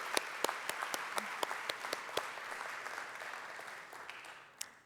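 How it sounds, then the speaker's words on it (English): Applause from a gala audience at a Holocaust museum benefit dinner, a soft continuous patter of many hands with a few sharp nearby claps standing out, gradually thinning toward the end. "Yes, a round of applause."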